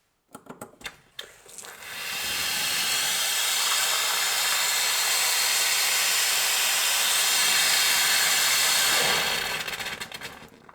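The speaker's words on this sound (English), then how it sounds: "boiling hot water directly comes out of here" A strong, steady hiss of boiling water rushing from a tap in a 300-year-old forest house runs for several seconds after a few clicks, then cuts off.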